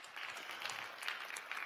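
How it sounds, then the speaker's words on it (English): A live audience in Traverse City applauds Taylor, a soft, steady wash of many hands clapping that stays faint and distant throughout without building or fading. "how about a round of applause for Taylor?"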